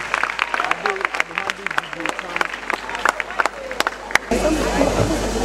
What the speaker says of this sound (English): Please give her a round of applause as she comes in.